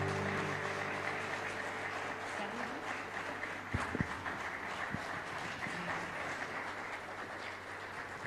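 A church audience applauds the choir Nueva Alegría at a Bible seminar in Peru, a steady wash of clapping held at moderate volume throughout, with a few sharper claps standing out.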